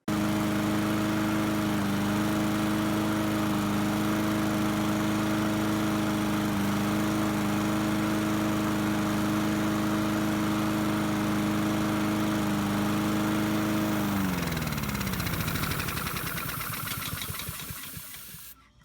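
A lawn mower engine runs loud and steady at close range while fed a heavy squirt of fogging oil just before the gas runs out. Near the end it sputters, slows and dies away.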